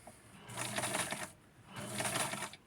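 A sewing machine stitches a small Ken doll shirt in two short bursts, a steady close-up whirring hum with a brief pause between runs.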